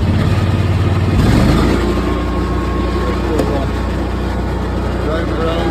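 A 2024 Kubota Z781i zero-turn mower engine catches and settles into a steady, loud, close idle, with a brief surge at startup, while someone talks over it.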